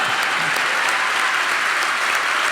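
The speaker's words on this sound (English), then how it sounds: "Round of applause for Chuck Todd." Live podcast audience giving a round of applause for a guest, a dense, even burst of many hands clapping, loud and continuous from start to finish.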